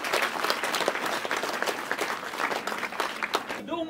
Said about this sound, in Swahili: Tumpigie makofi rais wetu kwa kazi hii.